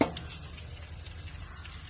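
Soya balls fry in a pan while being stirred, a steady low sizzle with soft scraping and faint drips under it, close and fairly quiet throughout.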